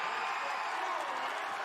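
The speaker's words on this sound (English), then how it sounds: "you can hear the applause. The folks inside the arena here are celebrating" Arena crowd at a FIRST robotics state championship applauding and cheering, a steady dense wash of clapping across the whole moment, moderately loud and distant.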